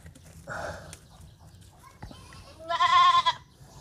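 A goat bleats while being given an injection, a short cry early on followed by a louder, wavering bleat near the end, with quiet farm background between.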